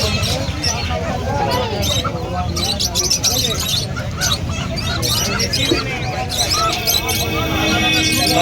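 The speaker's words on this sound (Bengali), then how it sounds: "খোঁজ আমাদের পাখির বাজার, পাখিও আছে এখানে, পাখিও বিক্রি হচ্ছে।" Birds for sale at a busy market chirp and tweet in scattered bursts amid a dense crowd murmur and nearby talking, with a steady background hum.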